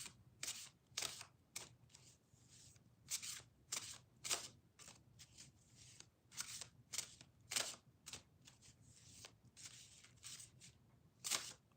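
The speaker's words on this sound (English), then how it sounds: "gotta shuffle it this way" Tarot cards being shuffled by hand, a quiet series of crisp riffling bursts repeating irregularly, close and soft with no talking.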